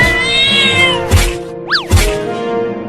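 A cat meows in a comedy skit, a loud drawn-out cry close by, followed by a couple of thumps and a short rising-falling squeal between them, with no speech heard.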